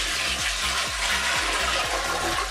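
Soapy water draining from a Giantex portable twin-tub washing machine, a loud, steady rushing gush of water with a faint rhythmic pulsing throughout, close by.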